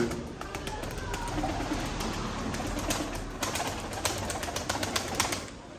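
Pigeons in a loft, their soft cooing and rustling wings filling a close indoor space with a steady murmur, occasional sharper flaps and clicks toward the end.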